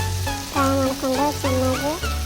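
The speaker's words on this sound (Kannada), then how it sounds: "ಹಾಕಿ ಮತ್ತೆ ಇನ್ನೂ ಸ್ವಲ್ಪ ಫ್ರೈ ಮಾಡ್ಕೊಂಡ್ರೆ" Food fries in a pan on a home stove, a steady near sizzling hiss that runs under a loud tonal voice or melody from start to end.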